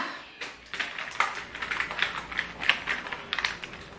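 Computer keyboard being typed on at a brisk, uneven pace, a dense run of close clicking keystrokes lasting several seconds with no talk.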